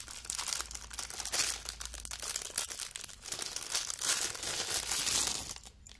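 Wrapped gift package holding a large pearl necklace being opened, with soft, continuous paper crinkling and crunching that stays close and quiet, with no voices.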